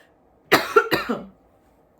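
Two quick, harsh coughs close to the microphone, one right after the other, followed by silence.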